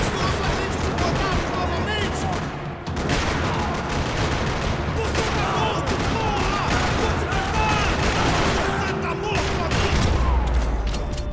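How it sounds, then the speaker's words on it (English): Rapid bursts of gunfire in a parking lot in the video game Max Payne 3 crackle almost nonstop, dense and loud, with a brief lull near the start and heavier low booms toward the end. "Another parking lot rattling with gunfire."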